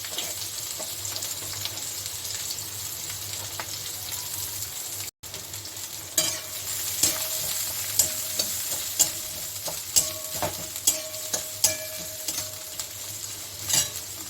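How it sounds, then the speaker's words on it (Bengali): Onions frying in a pan with oil, a steady close sizzle punctuated by regular scraping and tapping of a spoon stirring against the pan. "পেঁয়াজটাকে আমি খুব একটা লাল করে ভাজিনি।"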